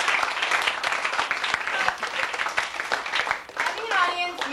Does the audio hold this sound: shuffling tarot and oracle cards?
no